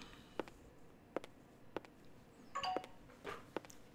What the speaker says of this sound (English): somebody forgot to mute their phone.